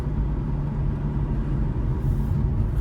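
Steady low rumble of road traffic in a jam, a continuous drone of idling and slowly moving car engines with no distinct passes, close and fairly loud.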